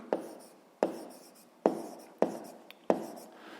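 Writing on paper during a sixth-grade maths exercise: five crisp, separate pen strokes, each a sharp tap fading quickly, spaced roughly evenly in a quiet room.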